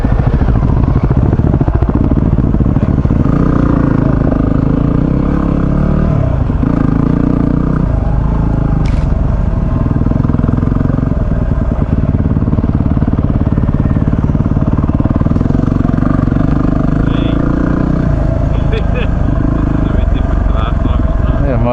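An off-road motorcycle on a burnt track drones steadily and loudly, the engine note rising and falling as it rides over uneven ground, with wind buffeting throughout.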